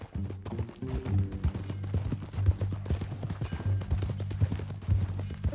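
Rhythmic clip-clop of horse hooves trotting close by in Red Dead Redemption 2, a steady plodding beat with soft background tones.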